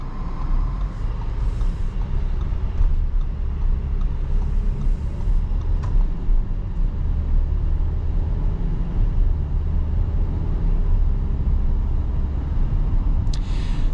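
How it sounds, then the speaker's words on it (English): A 2025 Audi Q7 45 Premium Plus with a four-cylinder engine cruises on a road, heard from inside the cabin as a steady, fairly quiet low rumble of engine and tyres throughout. "the 4-cylinder is actually really quiet in this car"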